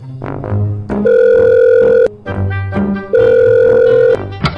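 In a Minecraft roleplay, a phone places a call: two long, steady ringback tones sound loud and close, each preceded by quick dial beeps.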